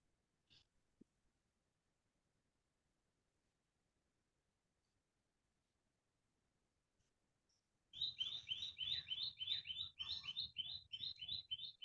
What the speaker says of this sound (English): what beautiful bird chirping from behind you